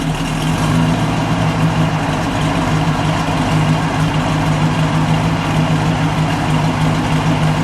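A red 1973 Pontiac Trans Am with the Super Duty SD 455 engine idles close by, a steady, even low rumble holding throughout with no revs and no voices.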